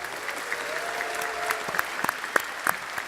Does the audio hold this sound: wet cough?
no